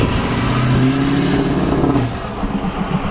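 A smoke-switched Ford 6.0 Powerstroke diesel truck held on the brake revs loudly up close, its engine droning with rising whine for about two seconds before easing off into a lower rumble.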